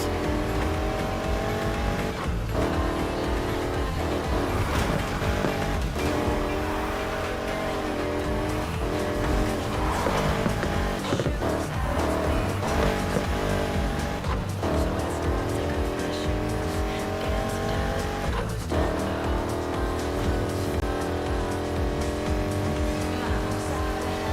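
Racing cars roar continuously in the video game Need for Speed Heat, with loud, sustained engine tones rising and falling through gear changes and repeated tire squeals and skids throughout.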